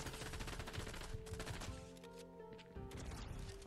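Rapid bursts of scoped SMG fire in Fortnite, crackling volleys of shots in quick succession with a short pause midway before the firing resumes, loud and close.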